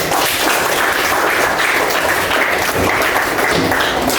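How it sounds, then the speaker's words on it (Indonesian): A classroom of students claps together, with steady, close, noisy applause filling the few seconds without any voices over it. "tepuk tangan semuanya"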